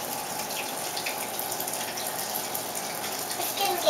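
Cold water gushes steadily into a filling washing machine, a continuous hissing rush that holds at even loudness for several seconds with faint voices in the background.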